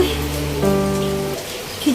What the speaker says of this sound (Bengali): বৃষ্টিটা একটু বন্ধ হয়েছিল, এখন আবার পড়ছে